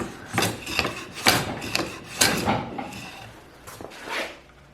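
A hand plane on a shooting board trims the end grain of a wooden piece in a series of short, close, scraping strokes, about half a dozen in an uneven rhythm, with no voices.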